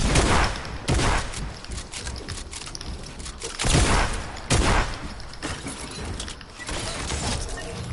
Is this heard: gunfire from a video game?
yes